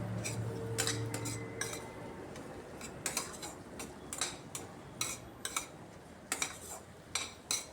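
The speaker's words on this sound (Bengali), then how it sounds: "এবার গুঁড়া মশলার সাথে আদা রসুন পেঁয়াজটাকে খুব ভালো করে কষিয়ে নিতে হবে।" Ground spices stir-fried with ginger, garlic and onion for an egg dish, a spatula knocking and scraping in the pan in irregular clicks over a low hiss, close but quiet.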